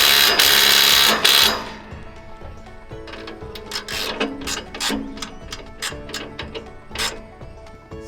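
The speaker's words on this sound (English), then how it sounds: "do up the nut and bolt." A nut and bolt are tightened with a ratchet on a small Aus Agro Mini silage wrapper, a loud rasp followed by a run of quick clicking strokes, close and alone.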